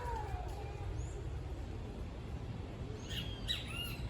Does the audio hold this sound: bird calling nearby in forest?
yes